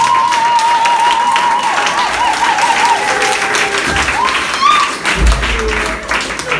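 A church congregation claps and cheers during a French-language sermon, steady applause filling the room with a voice calling out over it, then fading toward the end.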